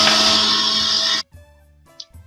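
An electric mixer whirs loudly while beating oil and milk into cupcake batter, running steadily for over a second before cutting off abruptly, followed by faint clinks and handling noises.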